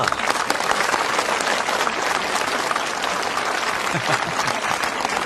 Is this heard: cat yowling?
no